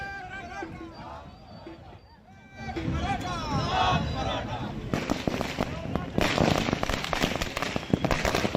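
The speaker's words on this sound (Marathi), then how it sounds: "चौकात फटाके फोडत जोरदार घोषणाबाजी करत आनंद साजरा करण्यात आला" Firecrackers burst at a street celebration of Maratha reservation supporters, with sharp crackling pops densest in the latter half over a crowd's hubbub and voices.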